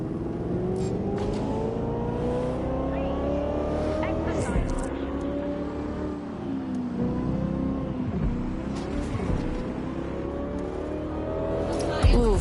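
A car cruises on auto drive in Watch Dogs: Legion, its engine a steady, fairly loud hum with occasional shifts in pitch, ending in a short louder surge.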